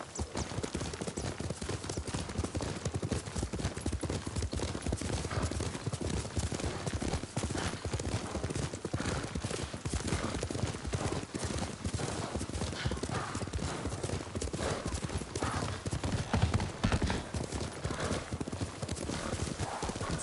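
A horse gallops in the video game Ghost of Tsushima, its hooves clopping in a steady, continuous rhythm throughout at close range, with occasional faint game voices and ambience mixed in.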